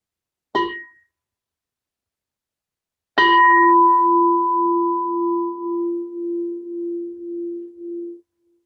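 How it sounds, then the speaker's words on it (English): A meditation bell is sounded during a dharma talk: first a brief light tap, then after a pause a full strike that rings out clear and resonant, slowly fading over about five seconds in an otherwise silent room. "So let's have a sound of the bell."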